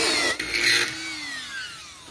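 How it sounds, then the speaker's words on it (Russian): A power drill runs close by in a short burst, then its whine slides downward as the motor winds down, fading over about two seconds with no talking. "Рядом сверлим."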